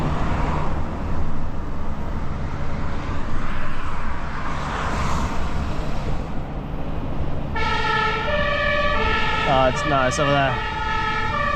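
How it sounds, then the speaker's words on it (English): An emergency vehicle siren wails near a closed motorway after a bad accident, heard from inside a delivery vehicle: a rising and falling tone under road rumble that grows loud and close in the last few seconds, with brief talk. "I feel like I can hear a siren."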